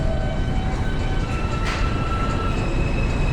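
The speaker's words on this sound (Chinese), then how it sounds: "看我们旁边的地铁是不是要走了？" A New York subway 1 train at an underground station platform gives off a steady, loud rumble of wheels and motors, with faint metallic squeals rising briefly over the continuous roar.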